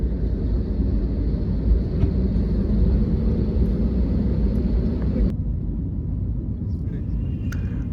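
A passenger airliner's engines roar during takeoff on a first flight, a loud, deep rumble heard from inside the cabin that suddenly drops in intensity partway through and then continues more softly.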